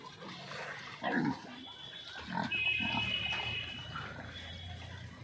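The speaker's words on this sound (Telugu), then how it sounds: "ఇవి బాగా తింటున్నాయి అనమాట మేత బాగా తింటున్నాయి అనమాట" Several pigs on a farm eat feed poured into a large drum, with close, irregular grunts and snorts over a steady background of chewing and shuffling.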